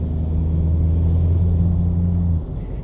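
A 2026 Mazda BT-50 GT ute's engine under acceleration, a low, steady rumbling drone heard from inside the cabin that eases off near the end.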